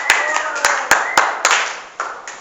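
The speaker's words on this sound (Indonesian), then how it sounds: "Tepuk tangan untuk kelompok 2." A few people clap for a student group after its presentation in a classroom, six or so distinct sharp hand claps spaced irregularly, close and fairly loud over a background of voices.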